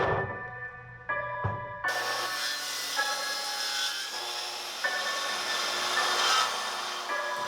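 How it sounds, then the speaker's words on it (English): A track saw starts up and bites through walnut slabs, giving a loud, steady whining cut that runs on for several seconds close by, with slight shifts in pitch as the blade works through the wood. "I started with breaking down these beautiful walnut slabs with my track saw"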